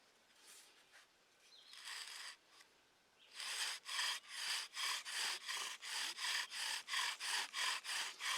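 A bow drill spindle rubs against wood while making friction fire: a few hesitant strokes, then a steady run of rapid, evenly paced rasping back-and-forth strokes, close by.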